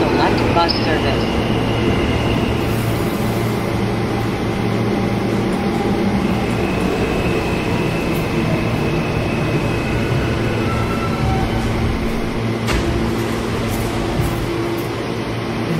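R160A G subway train running through the IND Crosstown Line in a Roblox MTA game, a steady loud rumble and hum of the moving train with a brief higher squeal near the end, continuous throughout.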